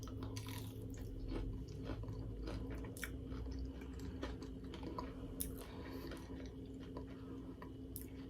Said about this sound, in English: Let me try one of these avocado fries.